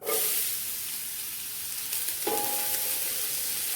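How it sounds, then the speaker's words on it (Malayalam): Finely chopped onions for beef cutlets hitting hot oil in a pan, giving a loud burst of hissing sizzle that settles into a steady crackle, with a brief stir partway through. "ചൂടായ എണ്ണയിലേക്ക് ഞാനൊരു 5 സവാള ചെറുതായിട്ട് അരിഞ്ഞിട്ടുണ്ട് ഇട്ട് കൊടുക്കാം"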